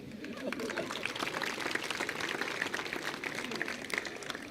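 A graduation ceremony audience applauds, a dense, steady patter of many hands clapping at moderate distance that holds evenly without breaks.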